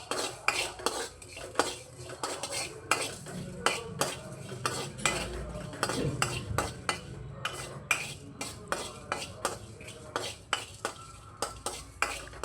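Spices fry in a pan over a low flame for lemon rice while a metal spoon repeatedly scrapes and clinks against the pan in a brisk irregular rhythm, with a soft sizzle underneath.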